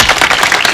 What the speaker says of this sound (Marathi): जोरात टाळ्या वाजवा परत